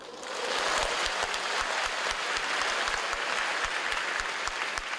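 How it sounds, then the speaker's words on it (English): Spontaneous applause from an audience at a machine learning conference in China, a dense, steady roar of clapping that swells in quickly and holds for several seconds. "It's not often, actually, at academic conferences that you do hear spontaneous applause."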